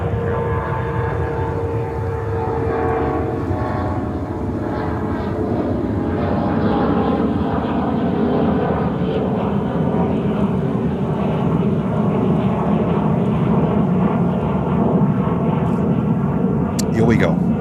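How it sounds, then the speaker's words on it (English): Boeing 777 freighter, about three years old, taking off from runway 13 right at JFK: a loud, steady engine roar holding throughout, with tonal whine near the end and radio-style talk running underneath. "777 freighter takeoff, 3 years old."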